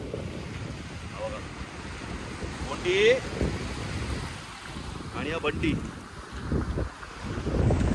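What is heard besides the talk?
sea waves at an untouched Konkan beach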